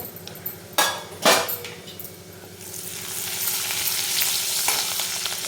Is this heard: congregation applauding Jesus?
no